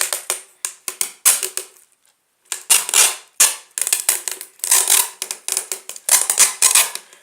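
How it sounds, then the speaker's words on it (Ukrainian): Adhesive tape is torn from the roll in quick, crackling bursts while being wound around a bottle, each peel sharp and close, with one brief pause near two seconds. "Наматываем сначала скотчем, чтобы потом на термоклей держал"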